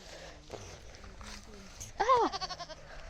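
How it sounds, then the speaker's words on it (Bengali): A goat gives one loud, wavering bleat near the end, after a stretch of quieter shuffling and faint background sounds. "ওই গাইস ছাগলটা পাগল হয়ে গেছে।"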